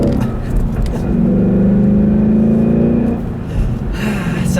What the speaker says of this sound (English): I'll do a nice little second gear pull here for you guys